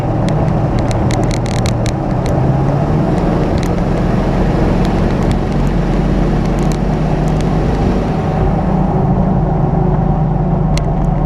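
A Power Stroke diesel truck with heavy white exhaust smoke and 15-20 pounds of boost drives on a test run, a loud, steady interior engine and road rumble throughout, with faint rattles above it.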